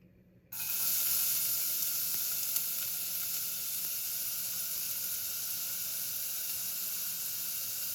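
Onions hit hot oil in a pan with a sudden loud sizzle that starts about half a second in and holds as a steady, close hiss to the end.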